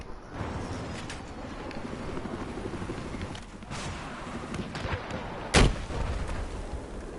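In the video game Battlefield 4, a single loud, sharp gunshot cracks out near the end over a rumbling, wind-like battlefield ambience.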